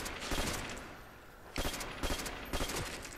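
Bursts of weapon fire in Call of Duty: World at War's Nazi Zombies mode on the Moon map, three separate volleys of quick, punchy shots with short pauses between them, close and loud.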